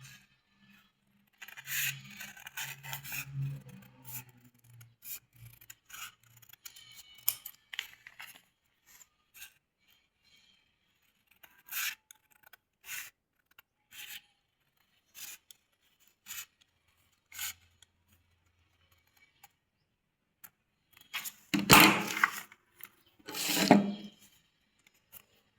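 Scissors snip through fabric while a round neckline is cut, with scattered crisp cuts and rasping slides spread throughout and two louder, heavier snips near the end; no voices.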